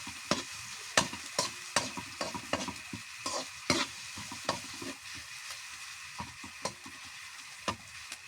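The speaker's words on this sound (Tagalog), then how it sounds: "Ilagay natin yung sibuyas, saka yung luya. Ayan na. Haluin hanggang sa pumula." Onion and ginger sizzle in a pan while a spoon stirs them. Sharp scraping clacks repeat at an irregular pace over a steady frying hiss, close up, with no talking.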